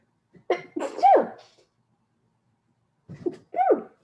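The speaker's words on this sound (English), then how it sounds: "I'm gonna sneeze." A person sneezes twice, close and loud, each a sharp breathy burst with a short intake before it and a pause of about two seconds between them.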